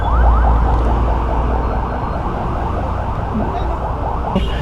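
An ambulance siren wails steadily and loudly close by, its rising and falling tone running under busy street noise throughout.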